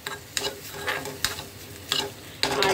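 Vegetables coated with salt, turmeric, cumin powder and ginger paste fry in ghee, a steady sizzle broken by repeated scraping stirs of a spatula against the pan, close and fairly loud.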